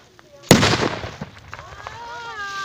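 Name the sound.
Dum Bum firecracker exploding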